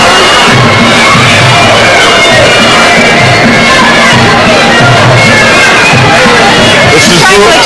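Boxing match crowd in an arena during a bout between Kid Cope and Petit, a steady roar of cheering and babble filling the whole stretch, loud and continuous with swells of shouting.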